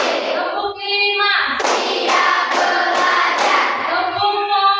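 Rhythmic group hand clapping in a classroom clap chant, children clapping a numbered counting pattern in bursts between a teacher's spoken calls.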